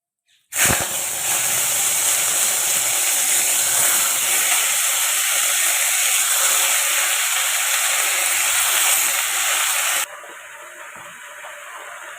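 Chopped mixed vegetables tipped into hot mustard oil in a kadai wok: a sudden loud, steady hiss and sizzle that starts abruptly and continues without a break, easing slightly near the end.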